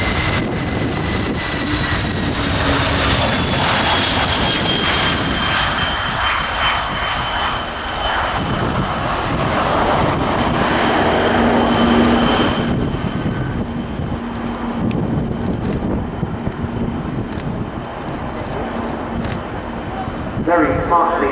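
A Kawasaki P-1 four-engine maritime patrol jet of the Japanese Maritime Self-Defense Force rolls and takes off at an air show, its loud, continuous jet roar swelling and then fading as it climbs, with a commentator talking throughout.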